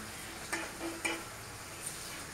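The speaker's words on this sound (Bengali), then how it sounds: "এখন এগুলোকে ভালো করে ভেজে নেব" Food frying in a pan with a soft steady sizzle, broken by two or three light scraping stirs of a spoon against the pan, close but quiet.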